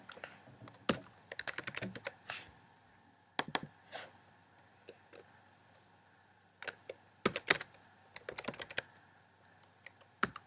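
Bursts of rapid keystrokes on a computer keyboard, clattering close by in uneven clusters separated by short pauses, with no talking.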